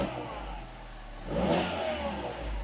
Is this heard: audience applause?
no